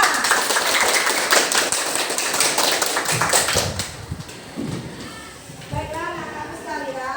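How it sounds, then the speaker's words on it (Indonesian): A classroom of high school students claps together in a dense burst of applause that fades over a few seconds, followed by voices talking and a teacher speaking. "Tepuk tangan untuk kalian semuanya."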